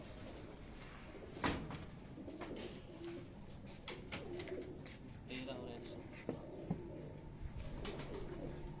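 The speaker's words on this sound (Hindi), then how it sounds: "एक और कबूतर" An F16 breed pigeon of the Sialkoti type gives soft, low cooing in a few short phrases, close but quiet, while someone talks over it and occasional thumps sound in the background.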